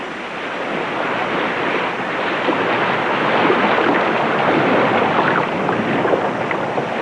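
Bow waves of a ship rushing through open ocean water make a steady, loud broadband hiss and wash that swells slightly, with wind noise mixed in and no voices.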